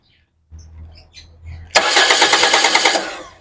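A 2001 Toyota Corolla Altis 1.8G automatic cranks with a few brief starter whirs, then catches and fires into a loud, close, steady idle, after ignition coil ground wire work.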